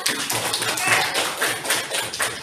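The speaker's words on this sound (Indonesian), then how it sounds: "Tepuk tangannya ya." Students in a classroom clapping together during a social studies lesson, a continuous, moderately loud spatter of hands with some voices mixed in.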